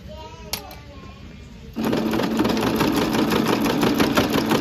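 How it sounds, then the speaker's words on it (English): A sewing machine fitted with a walking foot stitches a fleece beanie seam, its rapid even mechanical whir starting suddenly after quiet handling and running close and loud to the end, with speech beneath. "we're sewing a quarter inch seam allowance"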